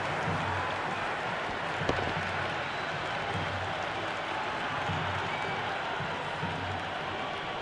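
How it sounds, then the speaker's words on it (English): A cricket crowd at an Afghanistan versus Zimbabwe match cheering and applauding, a continuous loud wash of clapping and crowd roar with a sharp knock partway through. "The crowd is electric right now."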